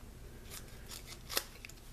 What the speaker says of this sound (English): I'm gonna take one and cut it in half